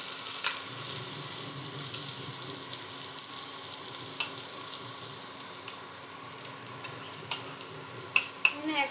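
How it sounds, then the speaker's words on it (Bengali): Chopped onion frying in hot white cooking oil for potol dorma crackles and sizzles steadily up close, with repeated sharp clicks and scrapes of a utensil stirring the pan. "তেলটা গরম হয়ে গেছে, এর মধ্যে প্রথমে আমি কুচনো পেঁয়াজ দিয়ে দেবো।"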